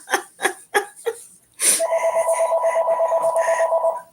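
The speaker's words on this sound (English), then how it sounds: "Oh, there goes my phone" A phone rings with a rapid electronic warble, pulsing steadily and loudly for a couple of seconds after a few short chirpy bursts of giggling.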